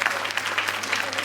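Studio audience on a Marathi TV show claps loudly in a dense, continuous burst, close and lively for a second or so.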